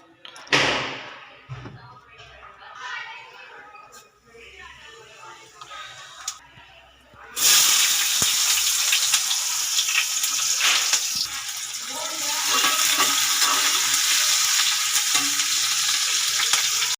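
Okra frying in oil in a pan on a gas stove: after a stretch of soft handling noises and a thump, a loud, steady broadband sizzle starts and continues close up, with some stirring.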